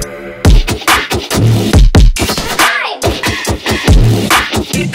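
Trap beat built around a Serum synth with its filter on a reverb setting, with punchy repeating kicks and choppy, washed synth stabs, loud and rhythmic with a brief dropout midway.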